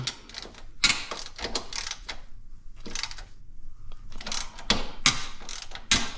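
Hand ratchet clicking in short bursts as stubborn bumper bolts are loosened on a Polaris Sportsman 1000 ATV, with repeated close ratcheting strokes separated by brief pauses.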